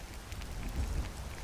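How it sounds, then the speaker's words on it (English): Rain falls steadily as a soft, even hiss with a faint low rumble beneath, heard alone in the background of a Skyrim-style fantasy role-play setting. "This is going to be a long walk in the rain."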